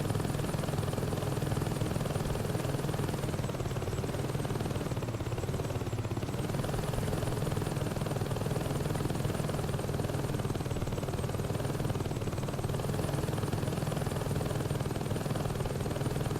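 Helicopter rotor and engine drone from the Saints Row 2 Heli Assault activity in the video game, a steady loud whirring hum lasting throughout with no pauses and no talk.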